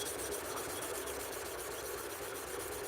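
Sandpaper rubbed steadily along a blade edge to take out scratches, a continuous dry abrasive scratching with a faint repeating stroke rhythm, close up and alone.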